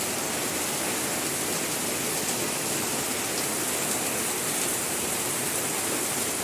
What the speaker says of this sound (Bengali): আল্লাহ তাআলা বৃষ্টি দিচ্ছে